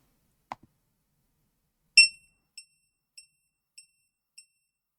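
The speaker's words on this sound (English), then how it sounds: "So those beeps were longer. Beep, beep, beep, beep, beep. And I had 5 of them." After a faint click, five short high-pitched electronic beeps from a buzzer on a Raspberry Pi Pico sound in an evenly spaced series, the first loudest, against silence.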